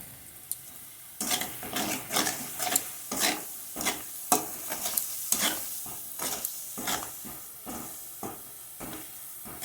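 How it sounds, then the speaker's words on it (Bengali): Spice paste fried and stirred in a pan, starting with a quiet hiss, then rhythmic close scraping strokes over steady sizzling and steam for most of the clip, with no speech. "এবার আমি মশলাটাকে একটু কষাই"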